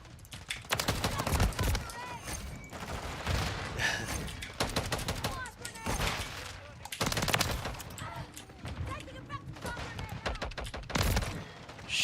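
Rapid bursts of automatic gunfire from a weapon in Call of Duty Modern Warfare 3, loud and close, coming in several long volleys separated by brief pauses.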